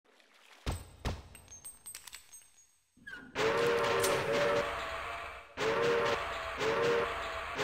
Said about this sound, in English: I just like driving the train.